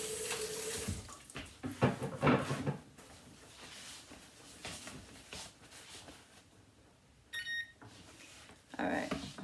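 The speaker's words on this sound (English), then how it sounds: "Gonna rinse my hands off." Tap water running into a kitchen sink as hands are rinsed, a close splashing stream with irregular bursts and a short clatter, no talking.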